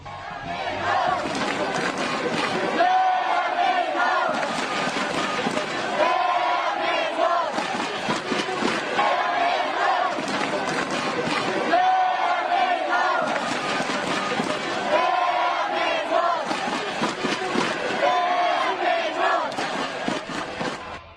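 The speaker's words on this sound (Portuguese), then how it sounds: "como canta a torcida da Coreia em jogos da sua seleção." Korean football supporters at a 2002 World Cup match chant in unison, a loud rhythmic crowd cry repeating in steady phrases of a few seconds each, sustained throughout.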